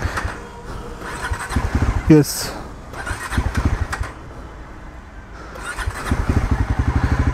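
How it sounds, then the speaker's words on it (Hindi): A 2024 Bajaj Pulsar NS400Z motorcycle engine cranks and catches, settling into a steady idle putter with a brief squeal, while a person talks over it. "बाइक जो स्टार्ट हो चुका है"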